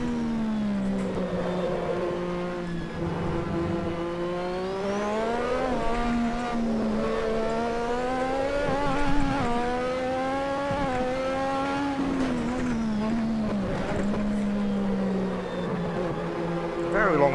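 A Lotus 98T Formula 1 car at full throttle on the Spa-Francorchamps circuit in the racing game Assetto Corsa, a high, harmonic engine whine rising and falling through the gears, steady and prominent for the whole stretch.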